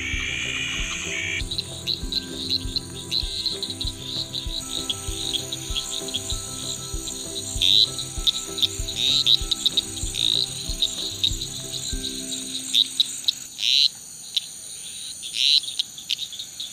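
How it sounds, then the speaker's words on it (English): Desert tree frogs in Australia calling in a dense, continuous chorus of rapid, shrill, squabbling notes with louder bursts rising above the steady din, close and without any talking. "These desert tree frogs are widespread across Australia, and they kinda sound like seagulls fighting over chips."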